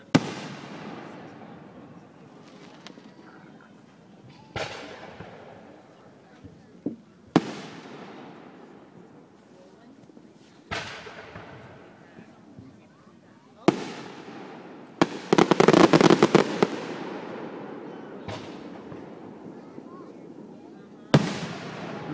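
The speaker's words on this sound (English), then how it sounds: "Nothing like fireworks." Fireworks burst in a series of sharp, loud booms spaced a few seconds apart, with a dense crackling cluster partway through and echoing tails after each blast.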